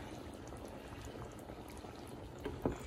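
Orzo being stirred in a pot of boiling salted water, with a steady bubbling, liquid rumble throughout and a brief louder slosh near the end.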